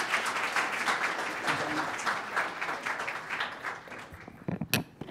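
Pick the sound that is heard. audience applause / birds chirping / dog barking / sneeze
audience applause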